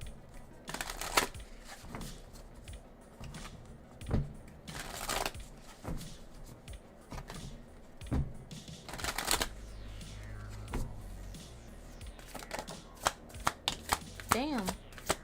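Tarot cards being shuffled in repeated crisp riffling bursts, close and fairly quiet, with someone talking intermittently between and over the shuffles.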